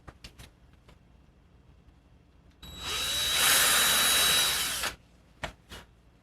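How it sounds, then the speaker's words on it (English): A power drill whirs steadily for about two seconds as it bores through reclaimed leather, framed by a few sharp clicks and taps before and after. "Drill a hole."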